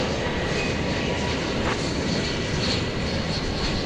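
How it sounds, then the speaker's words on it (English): An American Airlines Airbus A321neo taking off at Dallas/Fort Worth Airport, a steady, loud, broadband jet engine roar that holds constant throughout, heard from a distance with no voices. "It's American Flight 1430 going to San Francisco, an Airbus A321neo."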